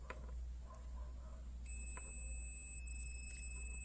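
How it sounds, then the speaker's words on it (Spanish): A multimeter on continuity test sends out a sustained high electronic beep partway through, steady and clear over a quiet background hum, with a few faint clicks before it. "Y emite el pitido."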